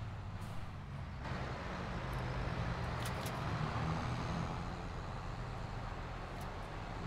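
Steady low engine drone of a John Deere tractor driving in a farming simulator game, continuous and moderately loud, with a few faint clicks over the top and no talking.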